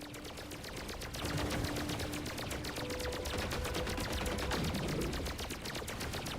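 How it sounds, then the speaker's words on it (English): Rapid, steady machine-gun fire from turrets and ships in a video game rattles on without break, a dense, even stream of shots heard alone. "All right, who's shooting at me?"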